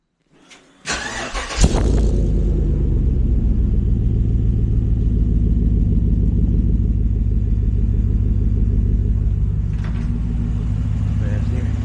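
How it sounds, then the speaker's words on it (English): Engine of a 2015 Chevy truck fitted with a new muffler cranks and catches, then settles into a loud, even, deep rumbling idle that continues for about ten seconds. "See, no exhaust leaks."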